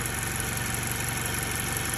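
A warmed-up car engine idling with a misfire, a steady close mechanical rumble with a faint uneven pulsing throughout the short stretch and no talking.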